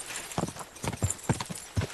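Hooves of a horse in Kingdom Come: Deliverance II clop in a quick, uneven galloping rhythm, close and crisp, about eight hits over two seconds.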